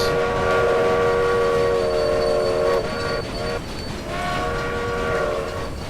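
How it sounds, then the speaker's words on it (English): A steam-era style train whistle sounds in the Railway Empire railway strategy game, with sustained harmonic tones that break off briefly near the middle before resuming over a steady rumble of rolling train noise, no talking. "Play that whistle."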